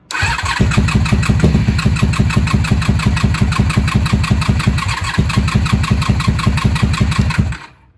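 A 1994-2003 Honda Magna V45 V4 VF750C motorcycle, run with a little choke after sitting dry for days, cranks in a fast rhythmic chug for about seven seconds, loud and close, before cutting off.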